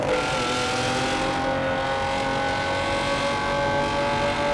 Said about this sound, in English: you've got your foot flat down on the throttle in race mode and you go to change gears